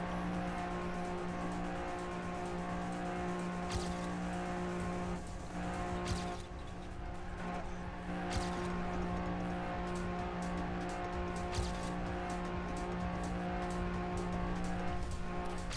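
A rally car in a winter racing video game drives on snow, its engine droning steadily at moderate level with intermittent sliding and skidding noises over about sixteen seconds.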